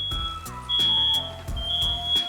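Smoke alarm sounding in a kitchen while burgers cook, repeated electronic beeps in a steady rhythm with a sustained high tone, moderately loud over faint background noise.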